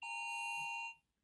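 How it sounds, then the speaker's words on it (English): A nationwide emergency alert test tone sounds from a phone: a loud, sustained, steady harsh screech lasting about a second before cutting off, with no talk over it. "that's the nationwide emergency test that FEMA and the FCC are doing throughout America"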